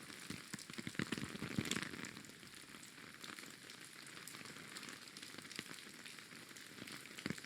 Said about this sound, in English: I love the rain so much.